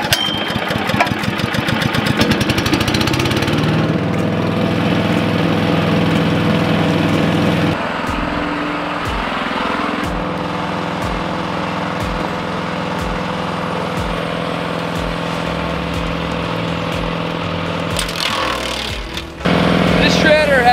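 A gas-powered branch shredder rated for branches up to three inches is started, its engine chugging and revving before settling into a steady, loud running drone with rhythmic knocking, then surging again near the end.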